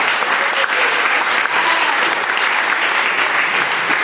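A magic-show audience bursts into full, dense applause, many hands clapping in a loud, even roar that holds steady from start to finish without talk over it.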